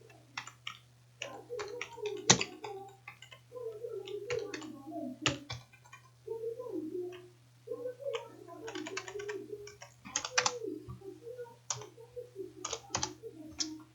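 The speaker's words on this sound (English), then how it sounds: "then type in the name." Soft computer keyboard typing while entering text into a 3D logo design program, scattered quick taps and clicks mixed with faint murmured sound, over a steady low electrical hum.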